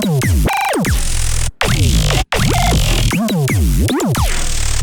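A Serum noise oscillator sample for dubstep, its pitch automated in a weird shape, sweeps and warbles up and down in loud, dense synthetic tones, broken by two brief cuts.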